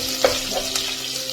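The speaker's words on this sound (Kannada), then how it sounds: "ಇದಕ್ಕೆ ನಾನು ಸ್ವಲ್ಪ ಈರುಳ್ಳಿ, ಕರಿಬೇವಿನ ಸೊಪ್ಪು, ಇದನ್ನು ಸ್ವಲ್ಪ ಫ್ರೈ ಮಾಡೋಣ" Onion and curry leaves fry in hot oil with mustard seeds for a brinjal gravy, a soft steady sizzle with a couple of faint stirring clicks, close by and brief.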